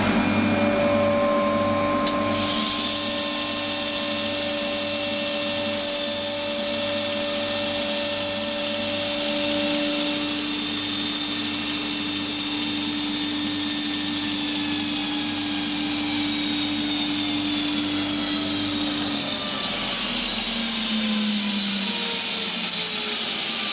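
A surface grinder runs steadily alongside a dust extractor, producing a loud continuous whirring drone with a faint high whine that holds for the whole stretch, with no talk.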